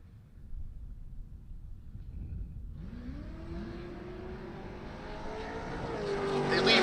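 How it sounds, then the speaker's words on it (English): A supercharged Suburban and an S550 Mustang launch side by side at a drag race, their engines building from a low rumble into a rising, revving roar heard from a distance. "They leave almost identical, which means that Patton is a better reaction time"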